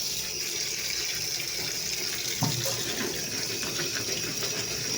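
Cut potatoes washed under a running kitchen tap, with a steady stream of water pouring throughout and a brief splash or clunk of handling partway through.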